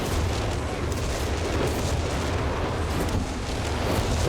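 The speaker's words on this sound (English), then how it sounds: "Here comes a walking Stuka barrage though." Walking Stuka artillery barrage in Company of Heroes 3, a dense, continuous roar of overlapping explosions and booms rumbling loudly and steadily throughout.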